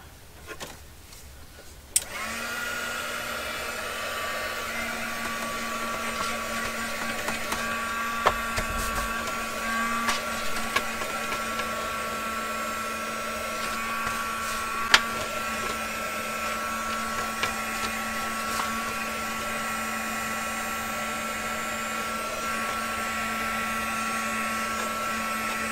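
A heat tool blows hot air over a crafted envelope, a steady whirring hiss that starts after a brief click and runs on evenly and close by, with a few faint clicks and no talking.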